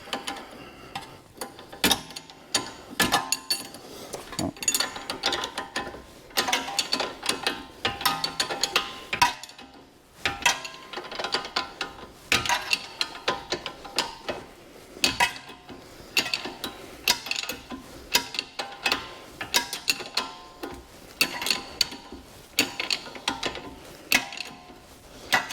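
A ratchet tightens the suspension link bolts on a BMW 330d E92, with repeated bursts of rapid metallic clicking and brief pauses between strokes, close and clear.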